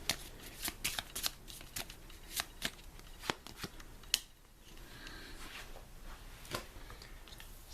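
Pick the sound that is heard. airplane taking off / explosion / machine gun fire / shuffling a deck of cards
shuffling a deck of cards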